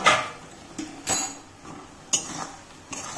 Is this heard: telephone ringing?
no